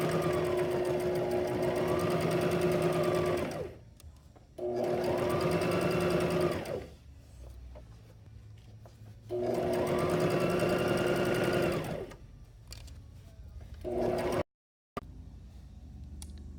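A sewing machine stitching a Christmas stocking, running in three long loud bursts of rapid, even whirring and clatter, separated by short pauses and followed by a few brief quieter stitch runs.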